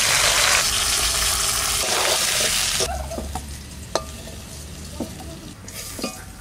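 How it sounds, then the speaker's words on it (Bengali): Potatoes frying in hot oil in a home kitchen after fish, a loud dense sizzle that quietens midway, with a few clinks and stirring taps of a utensil. "ওই তেলের মধ্যে আলু কটা ভেজে নেবো।"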